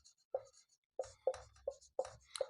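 Table headings for a Sanskrit verb-conjugation lesson are written by hand. Faint, close strokes come in short separate bursts with brief pauses between them, and no voice is heard.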